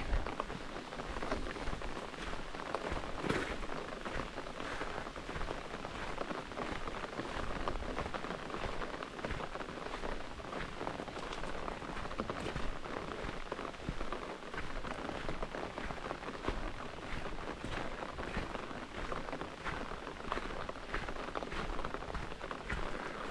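Steady rain falling on a campsite along a long-distance hiking trail, a dense, continuous hiss of drops pattering on surfaces close by, with no voices over it.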